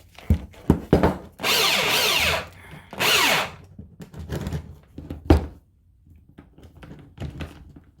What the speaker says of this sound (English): That's why I don't really use this drill much.